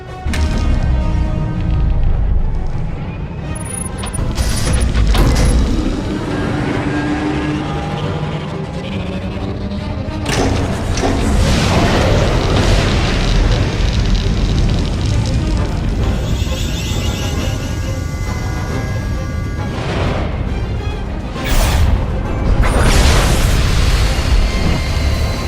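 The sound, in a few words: Silencer superweapon firing at enemy fleet, SWTOR video game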